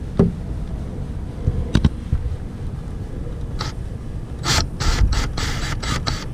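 A ratchet removes Torx screws on a Harley-Davidson Iron 883, with scattered mechanical clicks and then quick bursts of ratcheting near the end over a background of wind buffeting the microphone.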